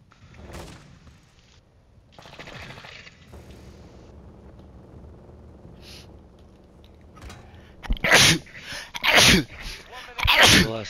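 Three loud, sharp sneezes burst out in quick succession near the end, close to the microphone, after quieter distant gunfire and game sounds during a Call of Duty: Modern Warfare II search and destroy match.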